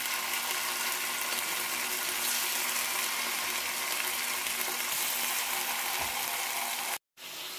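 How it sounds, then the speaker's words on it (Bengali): Beef pieces frying in a little oil in a frying pan, giving a loud, continuous sizzle that holds steady and cuts out briefly near the end. "ফ্রাই প্যানে তেল দেওয়ার পর আমি এখন বিফগুলো দিয়ে দিচ্ছি।"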